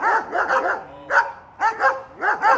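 Dogs bark loudly and close by in several quick bursts of overlapping barks and yips during horse whip training, with brief pauses between the volleys.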